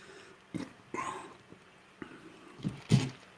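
Dogs eating indoors in a new apartment, making scattered chewing, snuffling and clattering bursts, close and moderately loud, with a sharper burst near the end and no talking.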